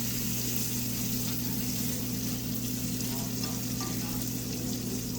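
Fish frying in a pan over medium-low heat makes a loud, steady sizzle with a little stirring and tossing noise, continuous throughout and with no talk.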